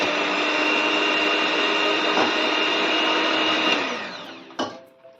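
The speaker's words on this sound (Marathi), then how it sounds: "इलेक्ट्रॉनिक हँड ब्लेंडर घेतलेलं आहे तर ह्याने याला व्यवस्थित असं बीट करून घ्यायचं आहे" An electric hand blender whirs steadily as it beats banana and wheat flour cake batter, a loud continuous drone that winds down near the end, followed by a brief clack.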